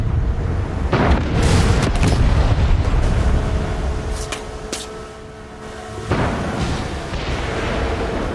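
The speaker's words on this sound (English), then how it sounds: "Check out the fireworks!" Fireworks burst in the Far Cry 6 ending, with loud booming blasts near the start and again later, each trailing into rumbling, crackling decay over a dense noisy background.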